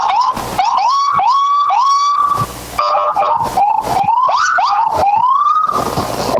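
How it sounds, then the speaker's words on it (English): Fire engine sirens wailing and whooping at a Christmas parade, rising sweeps repeated loudly and close, with short horn blasts breaking in between. "I'm sure these guys love the opportunity to play those sirens."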